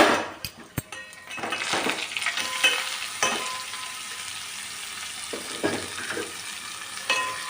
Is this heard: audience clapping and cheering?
no